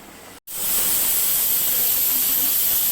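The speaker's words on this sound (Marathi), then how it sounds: "आता हे तळून घेऊया छान सोनेरी रंगावरती एक बाजू छान तळून घ्यायची" Mutton vadas deep frying in hot oil, a steady loud broadband hiss and sizzle that swells in after a brief dropout and holds evenly, with no talking.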